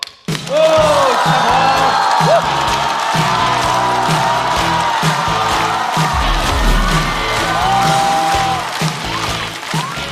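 A live stand-up comedy audience greets a comedian with loud, sustained applause and cheering. Dense clapping and whoops continue steadily for about ten seconds.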